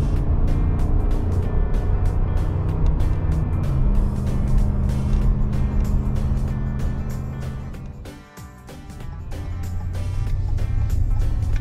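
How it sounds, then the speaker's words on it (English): A RAM 1500 pickup climbs a hill in tow/haul mode, its engine holding a steady, loud drone from inside the cab, with a brief dip and a gear change near the end before the pull resumes. "So as we climb this hill in tow haul mode, you can watch the truck work"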